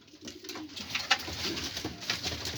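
Soft pigeon cooing, low and throaty, repeating over a faint background hiss; the birds sound fairly close but quiet.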